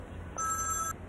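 Telephone ringing with one short electronic ring tone burst, steady and moderately faint, alone over quiet background noise.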